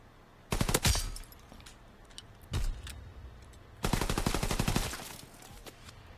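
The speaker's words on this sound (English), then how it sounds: "I can't even see where I'm shooting at because of the muzzle flash" Machine pistol fire in Call of Duty: WW2 multiplayer, three rapid automatic bursts with sharp close cracks, the last one longest, separated by short quiet gaps.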